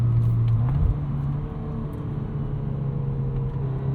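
The engine of a 2022 Volkswagen Golf R with a 6-speed manual drones loudly, its pitch jumping up early and then holding steady at a high, constant note.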